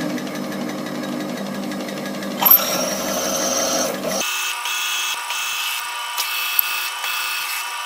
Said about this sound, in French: Perçage de 8 trous diamètre 9.